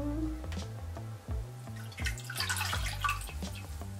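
A silk face cloth being dipped and soaked in a large bowl of warm water, close wet sloshing with drips and small splashes in an uneven rhythm.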